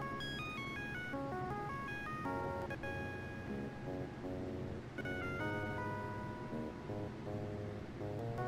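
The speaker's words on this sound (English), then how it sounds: "Oh, the doorbell." A melodic electronic chime plays a sequence of ringing tones in the Dark Seed 2 video game, steady and fairly loud, repeating over several seconds with no talking.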